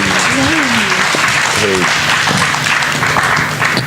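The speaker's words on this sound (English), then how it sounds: "give these amazing panelists a massive round of applause" An audience gives panelists at an immersive art festival panel a sustained burst of applause, dense clapping filling the room from start to finish, with a voice speaking briefly over it.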